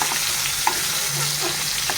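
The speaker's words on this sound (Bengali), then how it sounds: "এইদিকে দেখো মাছ ভাজা হচ্ছে" Fish pieces, including a fish head, fry in a pan with a loud, continuous close-up sizzle and a few faint pops and crackles.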